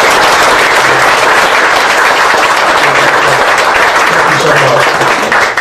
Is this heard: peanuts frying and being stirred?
no